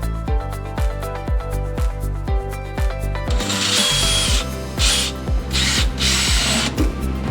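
Power drill working during an electric fuel pump install on a VW Bus, rhythmic short whirring pulses followed by a longer, harsher grinding stretch as the bit bites, loud and close with no talk.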